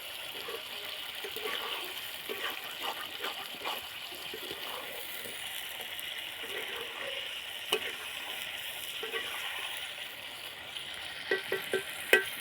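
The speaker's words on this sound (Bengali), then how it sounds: "আমি মাংস রান্না করছি" Meat sizzling in a pan with a constant frying hiss and occasional light stirring clicks, close and moderately quiet, with no one speaking.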